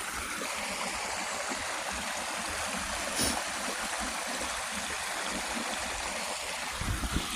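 Stream water flows steadily through the woods, a continuous broadband rush and trickle close by, with a faint bump near the end and no talking.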